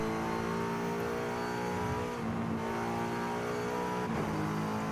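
All-wheel-drive S1-class car in Forza Horizon 5, its engine holding a steady, loud sustained drone with rich harmonic tone, a brief dip in pitch as it shifts, then pulling on at high revs.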